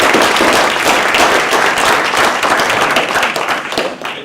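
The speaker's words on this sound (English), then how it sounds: "we should give our panelists a round of applause" Loud, close applause for panelists at a civic discussion event on voting, dense continuous clapping from a room of people that holds strong then begins to trail off, with no talk.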